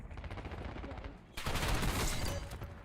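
A KSV submachine gun in Call of Duty Black Ops 6 fires in loud rapid bursts, with a steady rattle that swells into a denser volley of close gameplay gunfire partway through.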